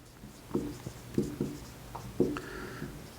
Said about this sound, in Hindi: अब लिखेंगे